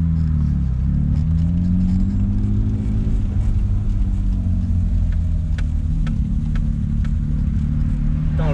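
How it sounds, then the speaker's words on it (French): A BMW Alpina's engine and exhaust give a loud, steady, deep rumble from inside the moving car, the tone shifting slightly as it drives, with faint clicks and rattles over it. "Putain, le bruit, ah le bruit, le son de l'échappement, il est vraiment propre quoi."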